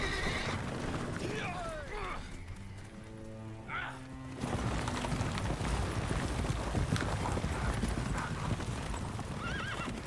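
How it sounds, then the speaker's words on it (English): Horses clip-clopping steadily in the video game The Witcher 3, with a clear neigh partway through, set against a busy background of ambient noise and faint voices. "Yay, we stole horses."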